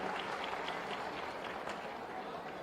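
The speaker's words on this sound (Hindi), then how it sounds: "आप सभी जोरदार तालियों के माध्यम से स्वागत करें" A seated audience at a Uttar Pradesh Day ceremony in Lucknow applauds, a faint, steady patter of clapping heard from a distance.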